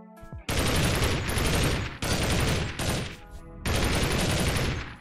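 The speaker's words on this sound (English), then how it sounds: "Now these are gas firing airsoft guns." Gas-powered airsoft M4 rifle firing in rapid bursts, three long strings of dense, sharp shots separated by short pauses, close and loud with no talking.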